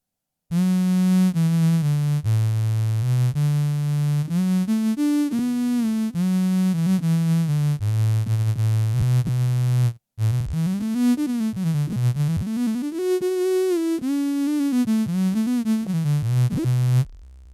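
A sustained bowed electric violin line with a sine wave mixed in at about 50% beneath it, notes gliding between pitches, loud and continuous with one brief break.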